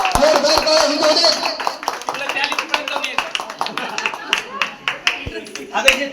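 Lively clapping from a gathered crowd at a housing-society game show event, brisk irregular hand claps overlapping with cheerful voices and chatter, growing more scattered and punchy toward the end.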